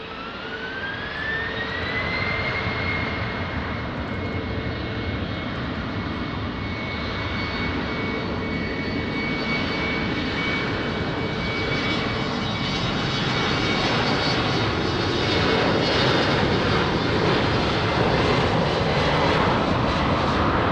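A jet airliner taking off from runway 20 at Lisbon Airport, a loud continuous roar with a rising whine early on, holding steady and growing slightly fuller over twenty seconds.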